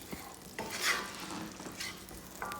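Vegetables saute and sizzle in a skillet for cheesy chicken pasta, a steady frying hiss broken by occasional stirring scrapes and clinks, close and moderately loud with no talking.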